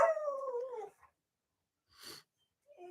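Dogs howling and whimpering at a distance, a drawn-out wavering howl for about a second, then a brief yelp and a short later whine after a long silence, faint and without talk.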